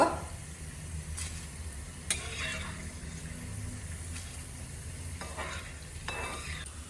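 Elephant foot yam cubes fry quietly in a pan for kootu, a soft low sizzle broken by a few scraping stirs of a spatula, close and faint, no speech.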